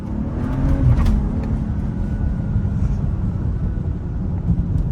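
A BMW 335i F30 with a broken charge pipe drives along, its engine a strong, steady low rumble with road and wind noise, close and continuous without talking.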